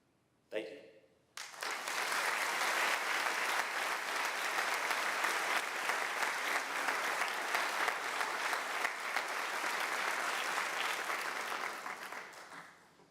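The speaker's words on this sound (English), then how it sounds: "Let's give another round of applause to our brave fire department" A crowd at a board of education meeting bursts into sustained, even clapping after a brief noise. The applause holds steady for about eleven seconds before tapering off.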